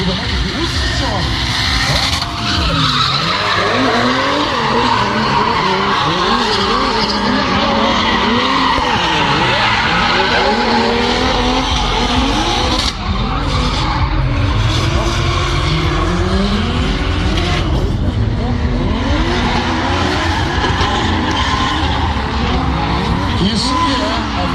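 Cars drifting in a drift competition make constant loud tire squeal and skidding over roaring engines, screeching rising and falling as they slide through the corners, with an excited voice talking over it.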